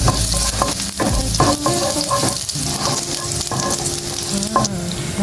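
Tomatoes sautéed in oil in a frying pan for an udon noodle dish give a loud, continuous close-up sizzle, broken by stirring scrapes and clatter.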